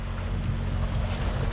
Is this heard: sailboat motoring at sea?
yes